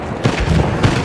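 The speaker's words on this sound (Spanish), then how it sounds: "Cañonazo, señores." A cannon fires in the Battlefield 1 video game, producing a short, heavy boom with a rumbling low thump amid busy battle noise.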